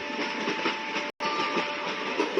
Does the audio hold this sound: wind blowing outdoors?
no